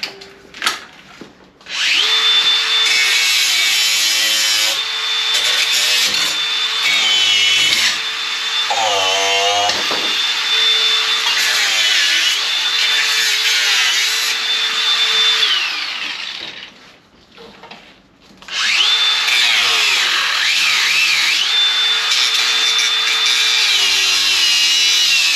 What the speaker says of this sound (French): Parce qu'il y a la meule.